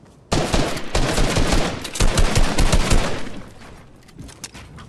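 Rapid shotgun and gunfire blasts from a Fortnite match, a dense run of loud close shots with fast repeated bursts that thin out toward the end.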